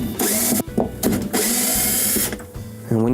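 A power screwdriver backs out number 2 Phillips screws from the drive hub of a Maytag washer, its motor whirring in short bursts with brief gaps between screws, close and loud, with a voice speaking near the end.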